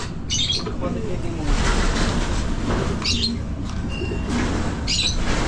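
Caged lovebirds chirp and squawk in short high bursts, a few louder calls standing out over steady outdoor background noise, with no talking during the moment.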